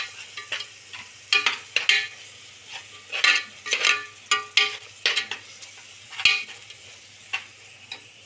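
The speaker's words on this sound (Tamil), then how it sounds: "அதையும் ஊற்றி பச்சை வாசம் போகிற வரைக்கும் நல்லா வதக்கணும்" Tomato paste sautéing in a pan for mushroom gravy, with repeated close scraping and stirring strokes of a spoon against the pan over a soft sizzle, in an uneven rhythm.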